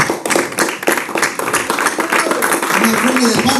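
A church congregation offers rhythmic applause during a lively worship service, a dense wash of many hands clapping close by with voices mixed in.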